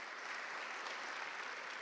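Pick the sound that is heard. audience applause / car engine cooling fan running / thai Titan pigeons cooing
audience applause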